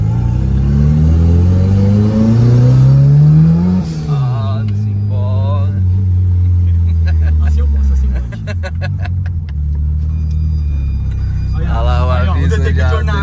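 A turbocharged VW Gol engine starts up and revs, rising and falling in strong harmonic sweeps near and loud, with clattering and hissing bursts, while people talk over it.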